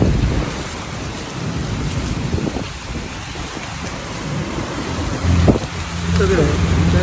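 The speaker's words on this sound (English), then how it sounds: "That rain is coming down us." Heavy rain roars down in a hurricane storm, a loud continuous wash of water close by with low rumbling and wind; a voice briefly speaks in the middle.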